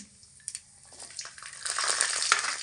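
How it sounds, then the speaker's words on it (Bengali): Garlic cloves dropped into hot mustard oil with black cumin seeds, a quiet start building within two seconds to a bright, steady frying sizzle with small crackles. "এবারে দিয়ে দেব কটা কোয়া রসুন"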